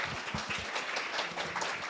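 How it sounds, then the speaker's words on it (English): Faint scattered applause from a forum audience at a traditional Chinese medicine event, a light patter of claps that sounds distant and thin. "Let's give them a round of applause."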